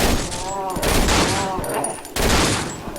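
Dense, rapid gunfire in the co-op horror video game Cry of Fear rattles in loud, continuous bursts, with a short break before another volley, and a voice talking faintly beneath it.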